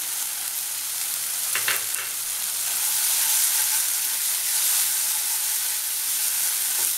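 Mustard paste and ground spices fry in a pan for a Bengali rohu fish with poppy seed dish, giving a steady, close sizzling hiss with a brief stir clatter early on.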